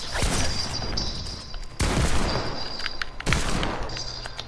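Gunshots in Fortnite, a couple of heavy blasts with crashing impacts cutting through dense game noise, loud and close, with no talking over them.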